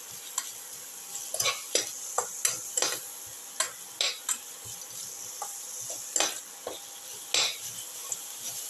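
Onions with salt and garlic sautéing in a pan, with a soft background sizzle broken by frequent sharp clicks and scrapes of a utensil stirring against the pan, irregular and close.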